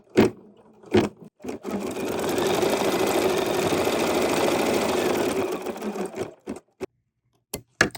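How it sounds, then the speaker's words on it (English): A sewing machine stitches a placement line for a paisley fanny bag, a loud, steady mechanical whir for about four seconds, with a few short clicks and bursts before and after. "we're going to stitch just the placement line"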